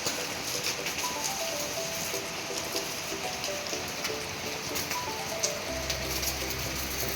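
Steady light rain falls outdoors beside newly built animal cages, a continuous, even hiss that stays at the same moderate level throughout, with no voices.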